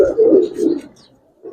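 A Giribaz pigeon cooing up close, a loud, low, rolling coo lasting under a second, followed by the start of another.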